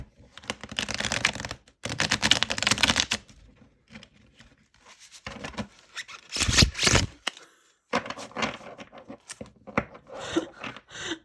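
A new Mirra Visions tarot card deck is shuffled in several separate bursts, each a dry, rasping riffle of stiff cards lasting a second or so, close and fairly loud, separated by short pauses.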